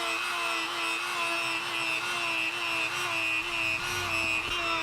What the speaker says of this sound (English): I'm going to use my Dremel with a buffing wheel on there, and we'll polish these things up to a nice shine.